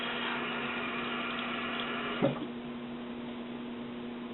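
A tap runs steadily into a sink while a plastic-and-cotton doll is washed under it, an even close hiss of water with a brief knock partway through, no talking.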